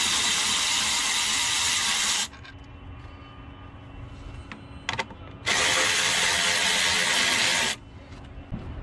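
A ratchet tool removes two 10mm bolts from a cover on the passenger side of a Jeep Wrangler 2.0 Turbo engine bay. Two loud, sustained bursts of rapid clicking come up close, separated by a quieter stretch with faint handling clicks.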